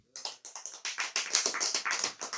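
An audience at a speech or religious talk gives short rhythmic applause, dense bursts of clapping that rise and fall several times in a couple of seconds, fairly close and with no talk.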